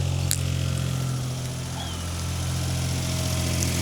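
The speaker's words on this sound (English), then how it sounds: "Doing the Rodrigo rev" A Daihatsu Mira van from Japan, running poorly and still smoky, holds a steady close idle with an even low engine hum and only slight swells in level, no voices.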